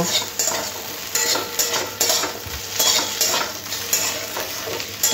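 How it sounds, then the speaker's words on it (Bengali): Ground roasted peanuts are stirred into a pan of fried okra and potatoes. A spatula scrapes in rhythmic strokes about once a second over a constant close sizzle, with no talking. "এরপরে আমি দিয়ে দেবো এখানে বাদাম, যে বাদামটা ভেজেছিলাম গুঁড়ো করে নিয়েছি। ভালো করে মিশিয়ে নেব।"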